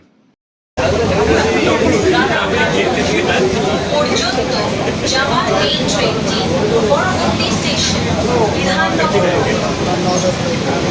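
A Sealdah–Ranaghat AC local train pulls into the Bidhannagar station platform with a loud, steady rolling rumble and rattle, nearby passenger chatter running underneath throughout.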